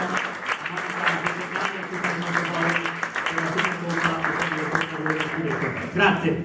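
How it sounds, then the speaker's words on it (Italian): A large audience claps continuously at close range, a dense, steady wash of applause with murmuring voices mixed in. "questo è l'applauso e l'in bocca al lupo di tutta la platea"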